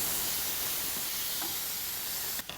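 Tomatoes cooking in a hot pan give a continuous close-up hiss of steam and sizzle, steady and fairly quiet, with a brief knock near the end.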